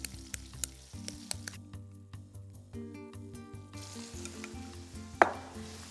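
Kielbasa sizzling in a saute pan, a faint, steady frying hiss beneath light kitchen clatter and a few sharp taps, with one brief louder clink near the end.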